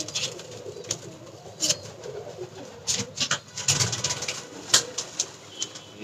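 Big Show, a pigeon seventeen or eighteen years old, coos in soft repeated bursts nearby, with scattered sharp rustles and flaps breaking in between.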